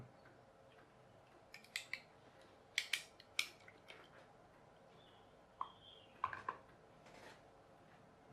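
A blade cutting down the side of a silicone sealant tube gives faint, scattered clicks and snips in quiet surroundings, with a few crisp clusters of small cuts.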